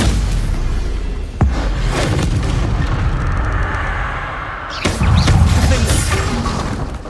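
A Bombarda blasting spell from Hogwarts Legacy goes off with a sudden booming explosion, followed by rumbling debris, then a second loud blast a few seconds later over continuous game ambience.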